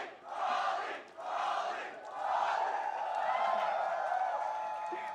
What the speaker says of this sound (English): Let them cheer for a sec.